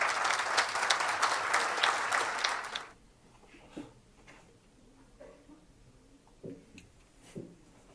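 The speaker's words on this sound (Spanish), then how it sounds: "Un fuerte aplauso" Audience applause at a conference talk, a dense burst of clapping that fills the first three seconds and then cuts off abruptly, leaving a quiet room with a few faint knocks and shuffles.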